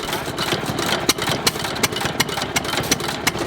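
An antique stationary engine runs at an antique tractor, engine and truck show, chugging steadily with sharp periodic knocks roughly every third of a second over a continuous mechanical rumble, close by.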